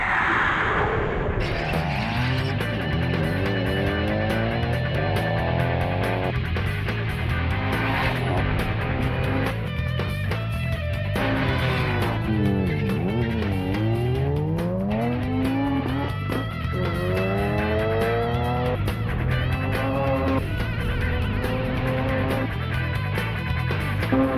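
A street car accelerating hard in second gear, its engine note rising and falling continuously over a background of tire squeal, loud and close throughout with no pause.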